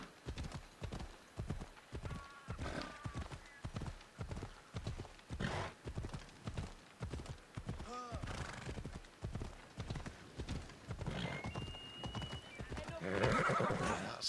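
A horse clip-clops at a steady trot in Assassin's Creed Odyssey, its hooves beating rhythmically close by, with a whinny partway through and game voices speaking over the footsteps.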